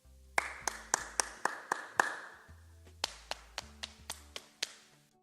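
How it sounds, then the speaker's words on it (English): Hands tap a rhythm on knees, about sixteen crisp, close taps in a steady pattern with a short pause partway through, quiet and with no talk. "tap this one upon your knees"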